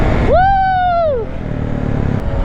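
A two-stroke dirt bike engine screams through one sharp high-pitched rev lasting about a second before dropping away, heard over a loud rumbling background.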